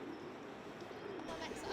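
Pigeons coo amid the urban bustle of Glasgow, soft rounded calls that come through faintly over a noisy city background.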